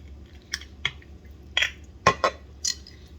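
A mixing bowl for bread dough is handled and set down, giving several separate clinks and knocks of ceramic or glass spaced a second or so apart, fairly close and moderately loud, with no talking.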